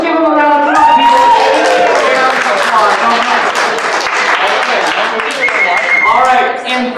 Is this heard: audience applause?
yes